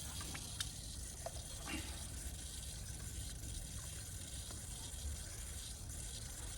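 Water gushes steadily from a three-stage koi pond dechlorinator filter into a measuring container: a continuous, even flow at moderate level with no breaks.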